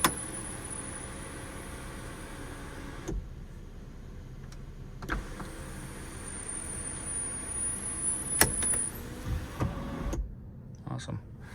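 A 2014 Mercedes-Benz C300 4Matic sunroof slides back with a steady electric motor whir inside the cabin, broken by a few clicks and clunks as the panel moves and stops.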